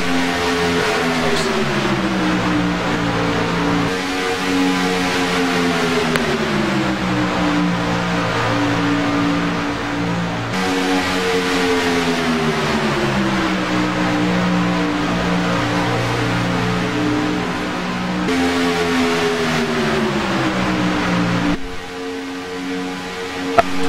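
Race cars circle the track at Daytona, engines droning loud and continuous with repeated rising and falling pitch sweeps as cars pass and accelerate, one after another for over twenty seconds.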